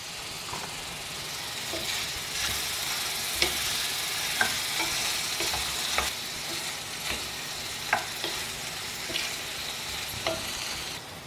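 Chopped ridge gourd with salt sautéing in a pan, giving a continuous soft sizzle broken by regular scraping clicks as it is stirred, close by with no talking.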